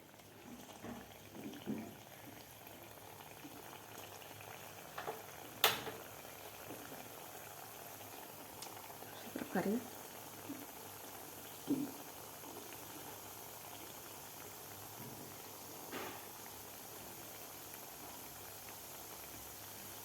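Balushahi fry in moderately hot oil, giving a steady, gentle bubbling sizzle throughout, close and quiet, with a few faint clinks and small pops rising above it.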